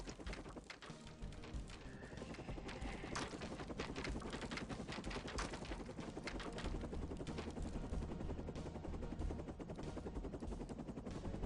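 Rapid automatic turret fire in a commander strategy video game, a dense, continuous rattle of shots running the whole stretch without pause.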